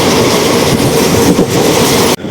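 A passenger train on the Tiruvannamalai to Tirupati line runs near Chandragiri with a loud, steady rumble of wheels and carriages, close to the microphone, until a sudden cut near the end.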